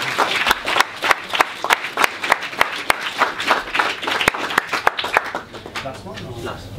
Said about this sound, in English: So big applause for Youssef.